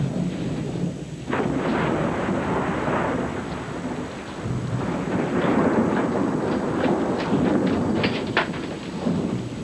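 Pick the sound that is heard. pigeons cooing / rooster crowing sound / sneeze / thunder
thunder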